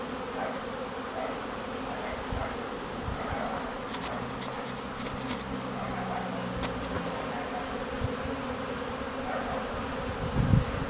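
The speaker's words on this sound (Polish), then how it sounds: "ten szum w pasiece tych pszczół" Honeybees buzzing steadily at the hive entrances of a spring apiary, a dense continuous drone that holds level from start to end with a few closer passing buzzes.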